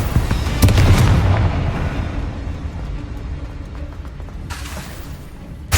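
The Confringo fire-blast spell in Hogwarts Legacy goes off with a sharp, booming explosion near the start. It rumbles away into a low game ambience, and a second crackling burst hits near the end.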